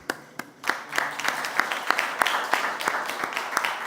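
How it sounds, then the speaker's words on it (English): A round of applause at a youth climate leadership event, welcoming a dignitary: steady, fairly sparse clapping from a modest audience in a hall, individual sharp claps standing out, with no talking over it. "And now it's a round of applause to welcome our Secretary General, Right Honourable Patricia Scotland KC"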